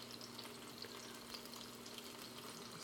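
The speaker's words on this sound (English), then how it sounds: "That stuff's sizzling." Omelet ingredients sizzle in a frying pan, a faint, steady crackle with a low hum underneath, continuous and close, with no talking.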